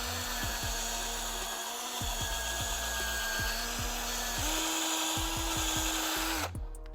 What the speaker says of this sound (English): Get your brush soaked in that, and then just run this through a couple times through the hole.